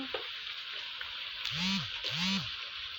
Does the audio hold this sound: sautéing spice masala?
yes